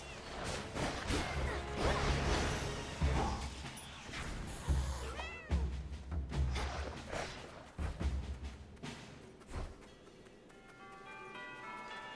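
Cat meows and yowls amid clashing combat crashes and whacks in the video game Hades 2, loud layered game effects with a chiming musical tail toward the end.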